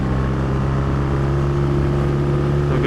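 A Triumph T140V motorcycle riding on an open road, a steady droning engine note with wind rush, loud and continuous throughout, without speech.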